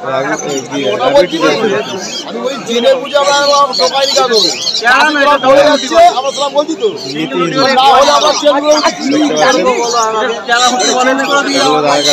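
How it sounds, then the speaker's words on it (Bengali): Pigeons, including Mukhi, Cappuccino and Silver Siraji breeds, coo amid steady crowd chatter and bargaining voices at the busy Uluberia bird market, with bird calls mixed constantly under the talk. "এখানেও কিছু পায়রা আছে দেখতে পাচ্ছেন, মুখী, ক্যাপুচিনো, সিরাজি, সিলভার সিরাজি"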